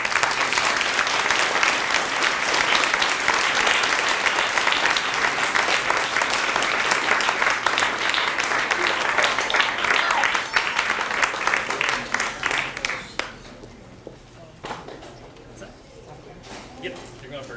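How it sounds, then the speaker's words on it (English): At a University Book Store event, an audience gives authors Kazu and Raina a long round of loud, dense applause that holds steady, then thins out into scattered claps before fading. "So give them a round of applause."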